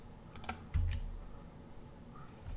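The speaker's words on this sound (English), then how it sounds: "I'm going to type in maple" Keystrokes on a computer keyboard while searching for maple wood in 3D design software, a short burst of close clicks followed by a brief, soft clatter.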